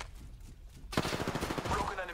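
Gunfire in Apex Legends, a quiet lead-in before a sudden rapid burst of automatic shots rattles out loudly and keeps going to the end.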